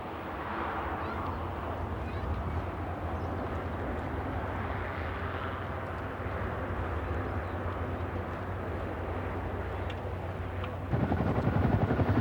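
A loud, continuous drone of a propeller aircraft using reverse thrust after landing, roaring steadily, with the sound swelling and growing rougher near the end, at an air show.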